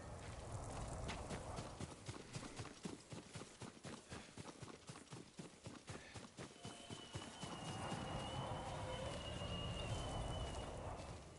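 Horse hooves clip-clopping in the video game Ghost of Tsushima, a quick steady run of close hoofbeats that slows and gives way to ambient outdoor sound.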